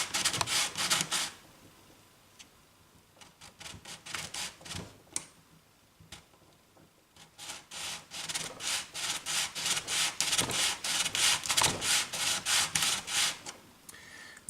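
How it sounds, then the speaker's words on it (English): A bone nut blank for an acoustic guitar is sanded by sliding it back and forth, giving close rhythmic scraping strokes: a short burst, a pause with a few scattered rubs, then a long, even run of strokes. "just take the nut and slide it gently back and forth."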